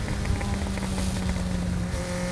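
Custom trike powered by a Kawasaki Ninja 900R engine, a steady close engine drone with a faint tonal whine and slight rough pulsing, no distinct exhaust crackles standing out.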